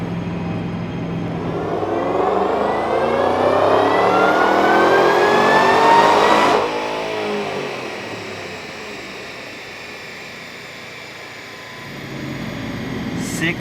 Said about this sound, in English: we are going to make the first pull with the VMP Gen 3 on an otherwise stock